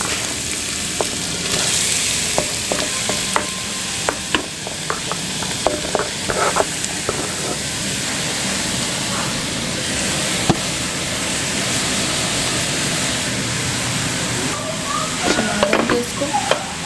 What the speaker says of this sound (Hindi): अब घी गरम हो गया तो इसमें अब जाएगी हमारी गाजर।